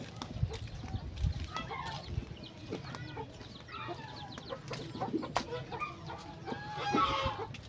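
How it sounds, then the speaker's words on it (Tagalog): A red rooster at rest by farm work barracks gives scattered clucks and short calls against a low background hum, with other fowl sounds nearby and a louder burst near the end. "Ayan yung manok ni boss na kulay pula"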